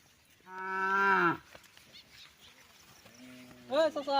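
A cow moos loudly and close by in a long, drawn-out low call, then gives a second, shorter moo a few seconds later, with people talking in the background.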